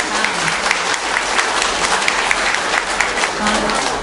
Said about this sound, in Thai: สุดท้ายนี้ก็ขอทุกคนปรบมือขอบคุณเป็นเกียรติแน่กำลังใจกับชุมชนบ้านบ่อบุในการทำความดีต่อไป